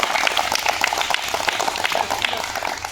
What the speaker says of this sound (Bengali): দুজনের জন্য একবার জোর হাততালি